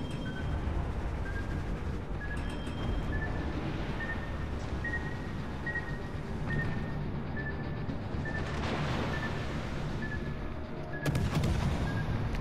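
Naval cannon fire in World of Warships: Legends booms through a dense, rumbling battle soundscape, repeated heavy blasts layered over constant low roar and a faint recurring tone, with no talk.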